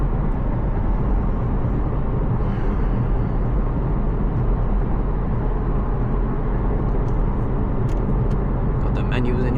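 Honda Civic Si with a 1.5-liter turbo engine cruising on a late-night drive, heard from inside as a steady low road and engine drone throughout, with someone talking over it.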